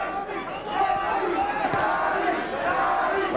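An arena crowd at a boxing match between Arturo Gatti and Wilson Rodriguez roars and chants, a broad sustained wall of shouting voices, loud and continuous with no break.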